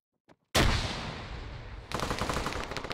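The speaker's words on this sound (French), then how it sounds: "Nanar qui entend les rafales." Automatic gunfire in a capture-the-flag video game match: a faint tick, then a sudden loud sustained burst that tails off, followed by a second rapid rattling burst, close and without talk.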